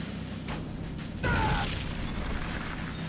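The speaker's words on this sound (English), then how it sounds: "Did you see that explosion?" A video game explosion erupts suddenly after a stretch of low mechanical rumble, a loud broadband blast with a brief whining burst, then a sustained roaring tail of debris noise. No one talks.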